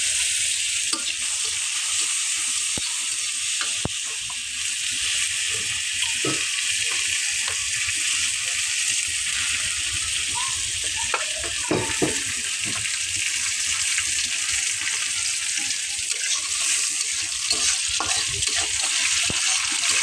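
Steamed egg pieces frying in hot oil give off a steady, close sizzle for twenty seconds, with frequent scraping and clinks of stirring throughout and no talking.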